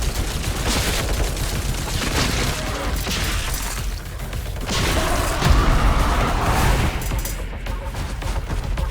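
Repeated gunfire from the player's single gun in the video game Scathe, dense and continuous bursts with crashing impacts and mechanical clatter throughout, no talking.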